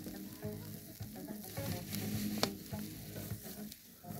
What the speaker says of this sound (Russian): Вот так и жарим.